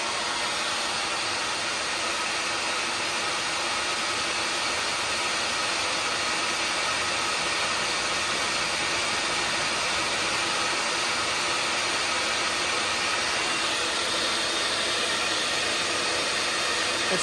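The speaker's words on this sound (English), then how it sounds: "So it kicked on the generator all by itself" An EcoFlow Smart Generator 3000 runs after starting automatically, giving a steady, loud, broadband engine drone that holds constant without pause and with no one talking.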